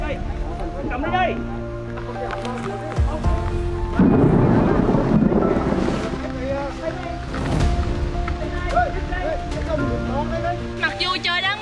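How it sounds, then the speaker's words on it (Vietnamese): Heavy rain pours steadily at a village well during work on a clean-water project, with thunder rumbling beneath and voices talking loudly throughout. "trời đang mưa rất to"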